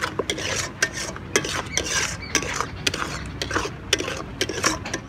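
Palm puree with sugar and grated coconut being stirred in a pan, rapid repeated scraping and clacking of a utensil against metal in an uneven rhythm, close and fairly loud, no voices.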